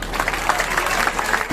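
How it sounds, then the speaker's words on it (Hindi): Children clap together at a school prize ceremony held for Eid-e-Milad, a dense, steady patter of many small hands that is moderately loud and close, with no talk over it. "तालियां करो।"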